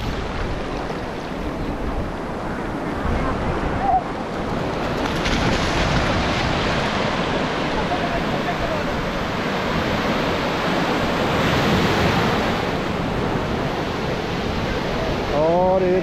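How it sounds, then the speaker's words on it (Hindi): Sea waves roll in at Aksa Beach in Mumbai, with a continuous broad wash of surf and wind buffeting the microphone throughout. "लहर ये आई और फिर बढ़ रही है, फिर बढ़ रही है।"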